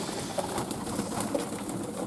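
Fantail doves cooing in a backyard loft, soft low coos set against a steady background of noise and rustling, fairly faint and continuous, with no talk.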